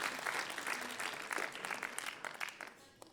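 Applause for the drummer at a concert comes from many hands at once, full at first and then thinning and fading to scattered claps toward the end.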